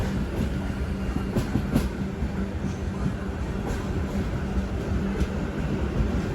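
Satavahana Superfast Intercity Express with LHB coaches rumbles past at close range, a loud steady roar of rolling wheels with repeated clickety-clack rail joints running throughout.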